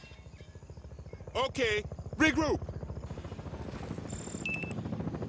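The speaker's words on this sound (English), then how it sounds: "Hey, look! That's our chopper!" A helicopter in the video game Battlefield: Bad Company gives a steady, pulsing rotor thrum throughout while a voice briefly calls out, and a short electronic beep is heard near the end.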